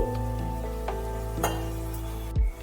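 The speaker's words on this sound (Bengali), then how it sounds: "একটু নাড়াচাড়া করার পর আমি দিয়ে দিচ্ছি অল্প পরিমাণে জল অবশ্যই গরম জল দিয়েছি" Hot water goes into a frying pan of lau ghonto made with rohu fish head, bringing a steady close sizzle with stirring scrapes and a brief louder hiss and clatter near the end.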